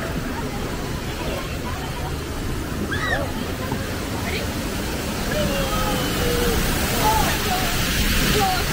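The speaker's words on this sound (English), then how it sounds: "They have multiple waterfalls!" Rushing water from the waterfalls at Efteling theme park gives a broad, steady roar beneath lively crowd chatter and occasional voices, growing slightly louder in the second half.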